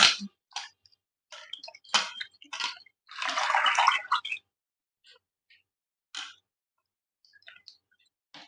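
Fresh moringa leaves are swished and rinsed in a bowl of water, a splashy burst of sloshing in the middle framed by scattered light drips and handling clicks, all close and fairly quiet.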